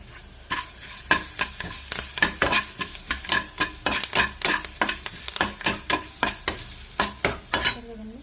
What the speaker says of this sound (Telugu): పచ్చిమిరపకాయ ముక్కలు కూడా పోపు వేగింది కదండి ఇందులో వేసేస్తే లైట్గా మగ్గుతాయి